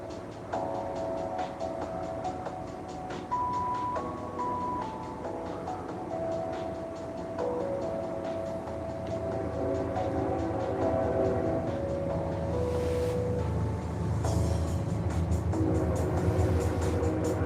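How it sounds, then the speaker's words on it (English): A train passes at a distance outdoors during a live stream, a steady low rumble with tonal horn-like notes rising and swelling in the later seconds, moderately loud and continuous throughout with no talk over it. "You guys hear the train?"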